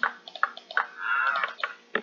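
Cows mooing in the video game Minecraft, several short low moos in quick succession with one longer drawn-out moo in the middle, clear and close.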